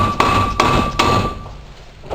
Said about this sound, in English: And also, don't hit that part with a hammer.